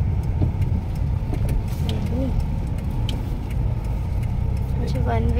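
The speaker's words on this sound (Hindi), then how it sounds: "जैसे कि देखो हम यहाँ से गाड़ी यू टर्न कर रहे हैं" A car idles and creeps through a U-turn on a congested road, its mid-pitched engine steady and close, with surrounding traffic noise and a faint horn or whistle chirp near the end.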